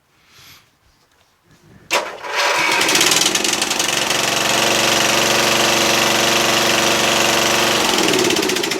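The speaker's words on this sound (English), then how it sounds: "The engine now runs on this tractor through the ignition switch." A Briggs & Stratton flathead engine on an MTD Yard Machines lawn tractor cranks briefly, then catches and settles into a loud, steady, close running drone that holds to the end, with no voices.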